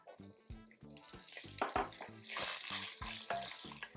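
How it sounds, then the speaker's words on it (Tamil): Green chillies and onions sautéing in a pan give a steady close sizzle and frying hiss, with regular stirring scrapes and knocks recurring throughout. "இந்த பச்சை மிளகாவும் நல்லா வெங்காயத்தை கூட நல்லா சேர்ந்து நல்லா வதங்கணும்"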